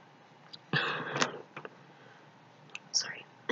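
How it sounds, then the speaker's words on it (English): A short, sharp sneeze bursts out close by, followed by quiet breathy sounds and a faint second puff of air. "Sorry, I had to sneeze."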